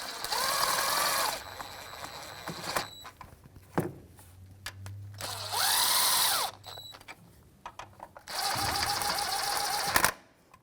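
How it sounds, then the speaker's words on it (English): Engine mount bolts on a 2001-2007 Volvo V70 being snugged with a 14mm socket, likely on a power tool, in three loud whirring bursts separated by quieter pauses and clinks, no talk. "I'm going to snug them up with the 14mm socket, and I'm going to do a crisscross pattern."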